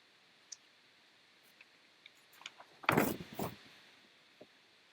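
A computer mouse clicks a few times, with sparse single taps spread across a quiet room before a brief louder rustle of handling near the desk.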